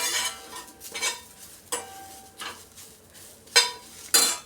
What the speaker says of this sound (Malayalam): തീ കുറച്ച് വെച്ച് നല്ലപോലെ പതുക്കെ കൈവിടാതെ വറുത്ത് കൊടുക്കണം